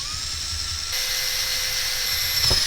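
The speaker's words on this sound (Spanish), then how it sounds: "para no partir la broca con este taladro" Power drill boring into a part of a marine engine's emergency starting system, a steady high motor whine that shifts pitch partway through, with a brief knock near the end.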